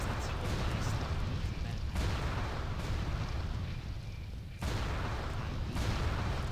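Cannon fire aimed at attackers in the World of Warcraft video game: continuous heavy booming blasts that run together, loud and dense, with a brief drop in intensity before the firing resumes.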